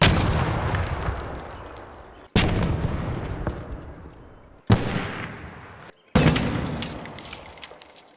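Four heavy explosions from Arc Raiders, one after another, each a loud booming blast that trails off into a long rumbling, crackling tail.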